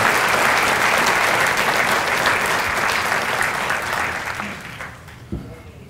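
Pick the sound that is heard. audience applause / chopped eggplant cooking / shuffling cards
audience applause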